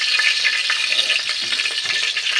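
Two bay leaves sizzle in hot oil in a pan, a loud, bright, continuous crackle with faint stirring taps, and no one speaks.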